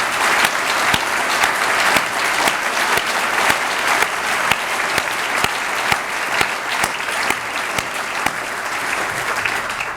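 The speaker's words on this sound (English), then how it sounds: "I just want to have a round of applause for John for a second" An audience at a 50th anniversary symposium claps in a sustained round of applause, dense steady clapping from many hands that fills the room for the full ten seconds with no one speaking.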